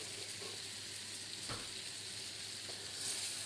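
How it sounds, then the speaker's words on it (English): Meat sizzles steadily in a pan of fresh butter browning on the heat as it is turned and basted, with a constant close frying hiss and one brief clatter partway through. "Turning it over and then constantly just basting it with wonderful fresh butter"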